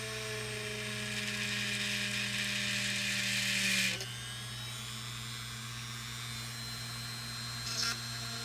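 A reamer or burr bit spins into a plastic Fisher-Price toy, giving a close, high, whining drill tone with a steady hum for about four seconds before it cuts off. A faint brief buzz follows later over a low background drone.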